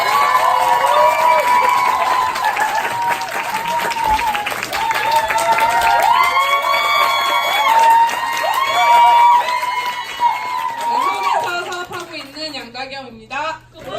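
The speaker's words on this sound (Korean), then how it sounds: "큰 박수로 모셔보도록 하겠습니다" An audience at a company group meeting welcomes a speaker to the stage with loud sustained clapping and cheering. Shouts and voices rise over it, along with tonal, music-like sounds, before it thins out toward the end.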